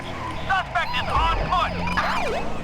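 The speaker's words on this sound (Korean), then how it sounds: "방금 봤죠? 경찰차 지나가는 거" A wailing police car siren in the video game GTA V sweeps up and down in pitch, fairly close, with game-like engine rumble and background noise underneath.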